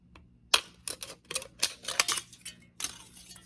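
Plant material being snipped with cutters during budget home gardening: a series of sharp, close clicks and snips, about nine irregular cuts over a few seconds, with no talking.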